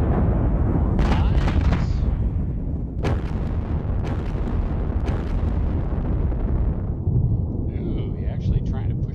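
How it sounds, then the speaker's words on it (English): An artillery strike in the video game Fulda Gap '85 brings a series of heavy booming blasts and rumbling bursts, with someone talking over the barrage. "I'm guessing that artillery strike is 9 times."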